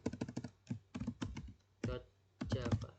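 Someone typing on a computer keyboard, bursts of quick close clicking keystrokes separated by short pauses.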